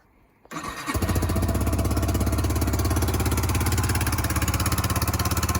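A Yamaha YBR 125 motorcycle engine, fitted with a fuel pump, cranks briefly and then catches, settling into a loud, steady, rapid idle close by.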